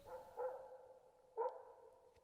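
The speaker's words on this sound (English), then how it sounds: "I thought I heard some barking in the distance." A dog barks somewhere far off, two faint, muffled barks about a second apart with nothing else in between.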